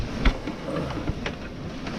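Rain falls on a sailing boat under way, a steady close hiss with soft irregular patters and light wind buffeting, no voices.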